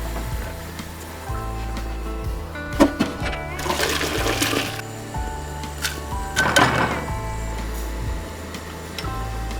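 Water is drained out of a pot of parboiled rice for Persian nesar polo, two short rushing pours a few seconds apart over a quiet kitchen background, with no talk.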